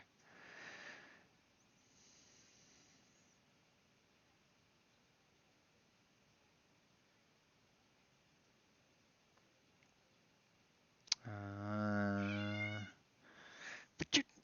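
A deaf cat meows loudly and close in a single drawn-out call near the end, preceded by a short faint sound at the start, with quiet room noise between.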